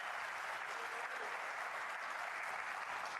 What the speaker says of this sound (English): There's the cheer from the crowd,